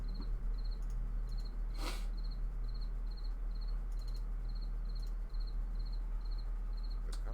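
A single cricket chirps in short, regular bursts, each a few rapid pulses, repeating steadily over a quiet background with a faint low hum and an occasional brief click.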